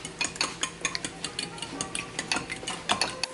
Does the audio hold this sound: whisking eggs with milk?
yes